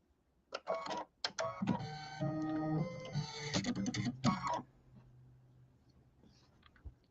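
An embroidery machine stitches a placement line for a pillow, giving about four seconds of close, steady mechanical whirring and tapping before stopping into a low hum.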